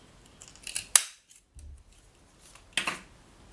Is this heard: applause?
no